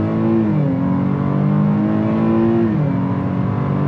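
A 2022 Chevy Blazer RS accelerates hard from a standstill in front-wheel drive, its engine note rising loud and steady with a gear shift partway through, heard close from inside the cabin.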